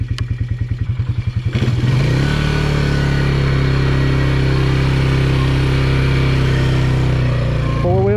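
A Polaris UTV on stock tires in mud idles with a chugging pulse, then the engine revs up and holds a loud, steady drone in four-wheel drive before easing off near the end.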